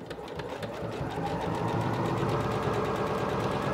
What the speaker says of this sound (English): This machine starts at the bottom and stitches up for the buttonhole,